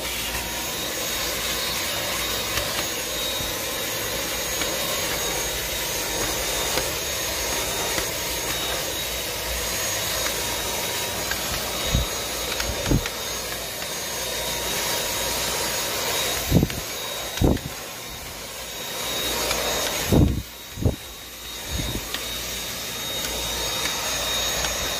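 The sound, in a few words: vacuum cleaner running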